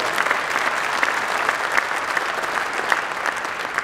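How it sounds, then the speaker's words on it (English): Guests at a Naval Academy campaign gala give a loud, sustained round of applause, thick and even, with no talking over it. "Let's give them a round of applause."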